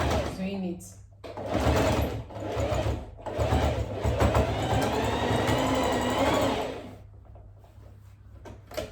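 A sewing machine stitches a braided headband in several close, whirring runs of rapid needle strokes, pausing between bursts, with someone talking over it.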